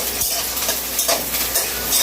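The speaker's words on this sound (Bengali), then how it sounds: "পেঁয়াজ আর লঙ্কা কুচিটা অ্যাড করে দিলাম।" Chopped onion and green chili hit hot white cooking oil in a pan and give off a steady, close hiss of frying. Small bursts of crackle come through, and no one speaks.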